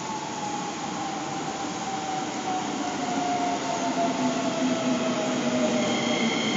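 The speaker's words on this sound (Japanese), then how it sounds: "まもなく1番線に普通羽田空港行き電車が参ります。" A Keisei 3050 series train pulls into a station platform on the Hokuso Line at Kita-Kokubun, with a steady rumble, wheel noise and rising squealing tones as it nears and slows. No one speaks.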